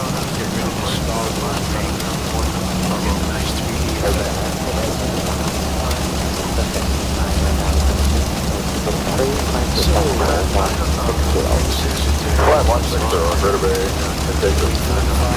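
Heavy rain drums on an airliner cockpit during the approach into Hong Kong, a steady dense wash of noise under engine hum with voices talking over it throughout.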